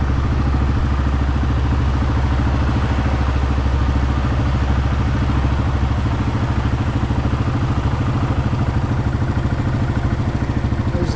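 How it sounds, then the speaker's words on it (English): A fairly new John Deere tractor engine runs close by on a farm field in South Carolina, with a loud, steady idling rumble and fast, even mechanical clatter that continues unbroken throughout. "So Barry, you brought your very nice John Deere tractor out here."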